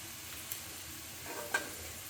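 Masala spices are stirred into a hot tempering in a pan for dal khichdi, a soft, quiet sizzle with faint scraping strokes and one brief sharper clink.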